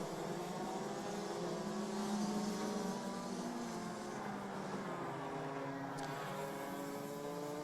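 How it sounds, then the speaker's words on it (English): DD2 Masters racing karts at Mülsen, Germany, buzz through chicanes in a steady, loud, overlapping engine drone with rising and falling harmonic whines, several karts close together and no talk. "seeing some of the drivers go through the chicanes, they are having to wrestle with the carts as the back end's trying to break traction"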